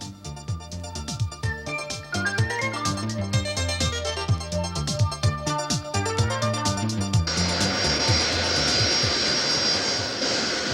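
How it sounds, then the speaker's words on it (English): An airplane engine runs on the runway before takeoff, a loud droning tone with shifting pitch that swells into a steady, broad roar in the last few seconds. "We're at the takeoff into the runway, ladies and gentlemen."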